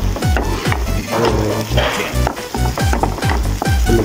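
Chili and ginger sizzle loudly in a pan for pork adobo, with repeated spatula scrapes and stirring knocks in a steady rhythm over the constant close-up frying hiss.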